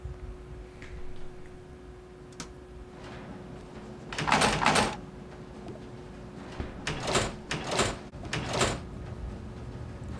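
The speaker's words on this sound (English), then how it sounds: "Why did I hear a door?" A door opens or closes in a quiet room, with several short, rattling bursts partway through and a few more clattering movements near the end over a faint steady hum.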